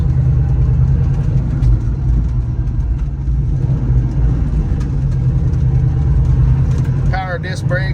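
A 1971 Ford Mustang Mach 1 with a 351 V8 and four-speed sits idling with a deep, steady low rumble that holds even throughout, and a voice comes in briefly near the end.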